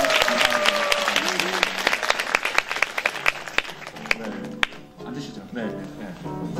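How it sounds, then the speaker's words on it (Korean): An audience at a live Catholic talk-show taping in Busan claps for three nuns, with brisk applause that tapers off as a voice speaks over it. "솔직하게 말씀해주신 세 분 수녀님께 큰 박수 부탁드립니다"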